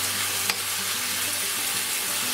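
Tomato sautéing in a pan for a chayote dish gives a steady, close, loud sizzle with a continuous frying hiss and a single sharp clink near the start. Nobody speaks.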